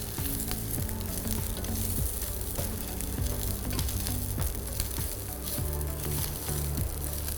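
A spoon stirs shredded turkey in a pot for a turkey casserole, with a steady sizzle under frequent scraping strokes and soft thuds, loud and close throughout, no talking.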